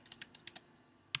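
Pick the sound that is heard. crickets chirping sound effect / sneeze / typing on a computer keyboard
typing on a computer keyboard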